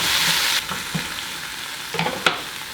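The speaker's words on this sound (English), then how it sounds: "Stir that for a minute, get that coated." Food sizzles steadily in a frying pan as a spoon stirs it, with a few soft scraping knocks against the pan over a continuous close crackle.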